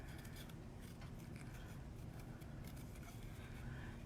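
Scissors cut around a stamped paper image of a dress for card making, a faint, continuous snipping and rustle of paper close by, with no talk.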